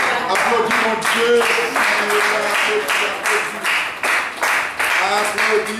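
A congregation at a church prayer meeting claps in a loud, steady rhythm while voices sing and call out over the beat.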